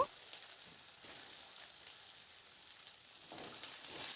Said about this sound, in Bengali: এরপর আমি কেটে রাখা সবজিগুলোকে দিয়ে দেব